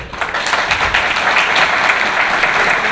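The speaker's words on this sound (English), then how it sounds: "Big clap for Adrian, I think." An audience at a Brexit seminar bursts into applause, a full steady patter of many hands clapping at close range for the whole stretch.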